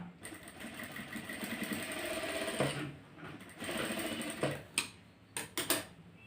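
Sewing machine stitching fabric during garment tailoring, a steady close mechanical whir running for several seconds, then breaking into a few short stop-start bursts.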